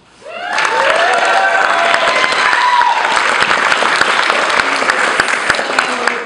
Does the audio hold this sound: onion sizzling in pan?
no